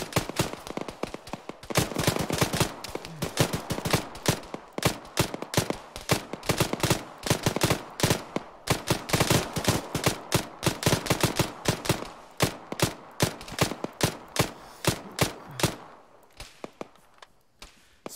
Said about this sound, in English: sporadic fire coming through the trees now